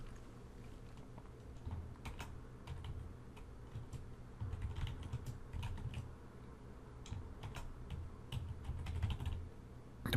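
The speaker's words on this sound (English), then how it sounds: "So I'm just going to type in here" Someone types on a computer keyboard in fast, irregular bursts of light clicks that are quiet and close, with no speech, over about ten seconds.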